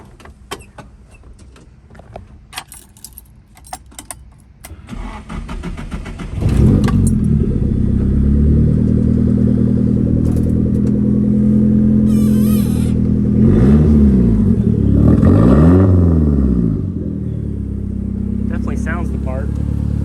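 A 1971 Datsun 510 with an SR20DET engine cranks over, catches and settles into a loud, rough idle, then revs up and down twice before holding steady, with people talking nearby.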